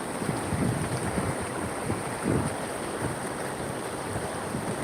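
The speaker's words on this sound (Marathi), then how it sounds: "पाण्याचा प्रवाह" Steady rushing flow of rainwater streaming along outdoors in Nagar as monsoon rain begins, a continuous broadband wash with wind-like noise and no voices.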